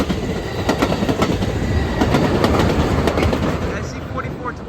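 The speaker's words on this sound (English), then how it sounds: "there goes off your eastbound Amtrak" Eastbound Amtrak Capitol Corridor passenger train 538 led by cab car 8301 and locomotive 2108 passing close by, a loud steady rumble with rhythmic clickety-clack of wheels over rail joints and faint wheel squeal.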